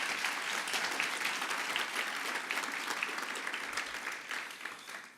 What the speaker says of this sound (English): So let's give them a round of applause and let them know we care.